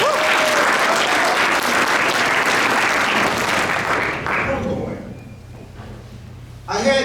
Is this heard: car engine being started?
no